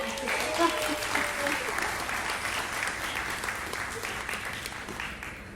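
Applause from an audience at a panel event on rebuilding Los Angeles, a steady moderately loud patter of many hands with a faint voice speaking underneath.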